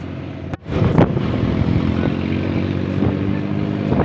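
A motorcycle ridden through city streets, its engine giving a steady, loud, close drone that continues throughout with no talking.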